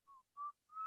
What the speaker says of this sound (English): Avery is whistling to himself.